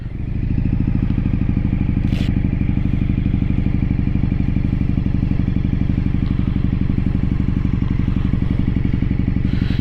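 An Indian FTR 1200 V-twin motorcycle engine idling, a loud, close, steady pulsing throb with a regular low rhythm throughout.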